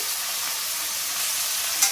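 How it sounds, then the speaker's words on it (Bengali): Onion, tomato and capsicum, salted, fry in a pan with a steady, loud, continuous sizzle that runs unbroken and close, with no voices. "পেঁয়াজ টমেটো আর ক্যাপসিকামটা আমি ভালোভাবে ভেজে নেব।"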